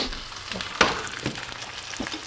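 Crusted tuna searing in a hot pan gives a soft, steady sizzle with one sharper clatter near the start and a few faint utensil taps, heard close with no voices.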